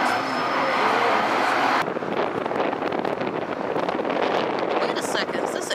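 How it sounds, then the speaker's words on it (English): An airplane passes overhead during trainspotting, a loud continuous broadband roar and rumble heard outdoors with wind buffeting the microphone, steady throughout and alone without talk. "Airplane, right?"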